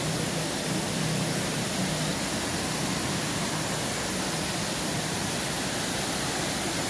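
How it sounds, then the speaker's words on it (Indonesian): Jagir waterfall in Banyuwangi roars as steady, dense broadband rushing water, loud and unbroken throughout with no voices. "ada dua, guys, air terjun, guys"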